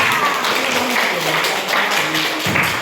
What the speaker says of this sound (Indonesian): Tepuk tangan dulu untuk teman kita.